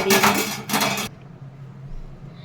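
A pot of brinjal and green gram curry is taken off a stove with two loud metallic clanks and scrapes close by, followed by a low, quiet hum.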